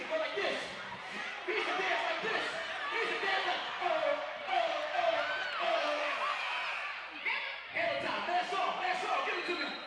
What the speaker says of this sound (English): now this crowd is excited, and wow, that was a great block